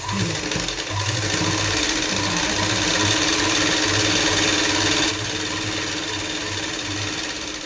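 A sewing machine stitches a ready-made kurti, running as a steady, loud, close mechanical whir with rapid needle chatter throughout, its pitch easing slightly near the end.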